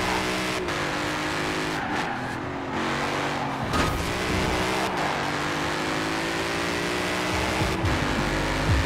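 Ford Mustang RTR Spec 5 engine in Forza Horizon 4, droning loudly and steadily through a lap with gear-shift dips, rising revs and occasional tire squeal, close and continuous with no talking.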